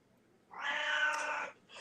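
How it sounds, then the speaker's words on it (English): An unhappy cat lets out one drawn-out meow lasting about a second, loud and near against a quiet room, followed by the start of another cry. "Get this cat out."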